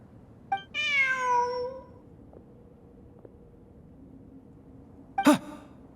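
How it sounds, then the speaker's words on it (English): A cat in a video game lets out a long, clear, drawn-out meow near the start, then a short sharp yowl or hiss a few seconds later against a quiet background. "Look, a cat."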